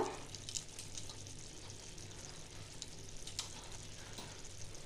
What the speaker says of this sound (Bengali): আলুগুলো 2 থেকে 3 মিনিট ভালো করে ফুটবে।